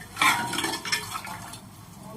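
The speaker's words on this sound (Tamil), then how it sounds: "கரண்டி விட்டு கலக்கி விட்டுக்கலாம்." A ladle stirs toor dal sambar in a pot, sloshing liquid and scraping and clinking against the metal, loudest at the start and then fading to a softer swirl.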